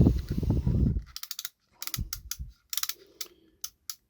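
A repaired Preston Innovations fishing bite-clicker mechanism ticks in short ratcheting bursts of sharp clicks, close and fairly quiet, with small gaps between runs after a brief rustle at the start.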